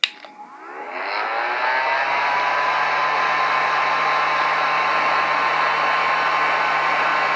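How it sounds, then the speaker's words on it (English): A heat gun blows steadily and loudly on the toe box of a 1994–1995 Air Jordan 1 Chicago sneaker to lift creases, starting with a click and rising whine, then holding a constant close rushing drone. "use the heat gun to remove the creases"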